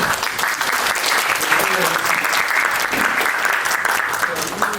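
Applause from the audience at a policy seminar's closing discussion, a dense continuous wash of clapping that stays loud throughout, with faint voices beneath it.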